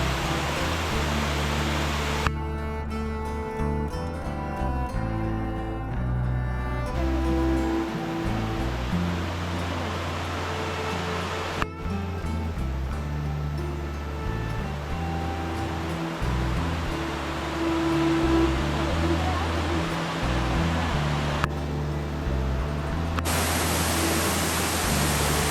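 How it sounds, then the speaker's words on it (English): A waterfall in a Sohra forest near Cherrapunji rushes as a continuous broadband roar of falling water, steady and fairly loud throughout, with no talk. "You can easily hear the gurgling sound of the waterfall."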